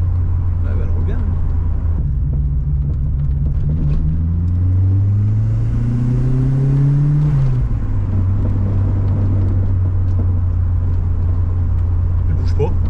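Carburetted Volkswagen Golf 2 engine running steadily with a loud low drone. Pitch rises through a rev for a few seconds, then settles back to a constant hum, with faint voices nearby.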